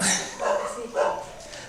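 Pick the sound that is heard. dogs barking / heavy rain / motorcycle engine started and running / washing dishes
dogs barking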